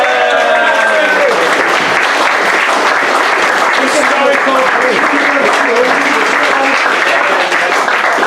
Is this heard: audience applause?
yes